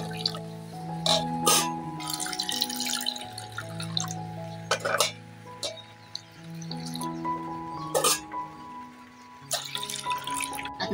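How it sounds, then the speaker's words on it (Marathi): Toor dal is washed in water by hand, giving a close series of splashes, drips and sloshing swirls that come in irregular bursts with short pauses between them. "आता ही स्वच्छ 2 पाण्याने धुवून घेणार आहे"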